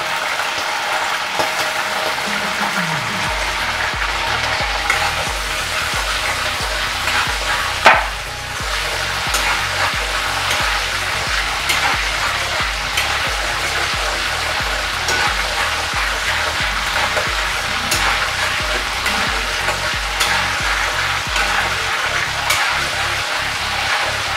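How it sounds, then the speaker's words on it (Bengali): Whole cumin seeds fry in hot oil for a prawn and pointed gourd curry with a bright, continuous sizzle. A spatula scrapes and knocks against the pan in a repeated rhythm, with one sharper clank partway through. "এই তেলে আমি একটু গোটা জিরে দিয়ে দিচ্ছি।"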